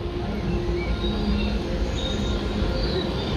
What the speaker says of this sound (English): I just heard the steam engine and the train go by overhead on the bridge.